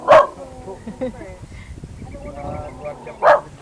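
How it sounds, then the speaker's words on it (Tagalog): Dogs bark sharply nearby at a goat and corn farm, a loud bark at the start and another near the end, with speech and faint yips in between. "Dami aso ah."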